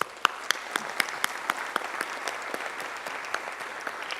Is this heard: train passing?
no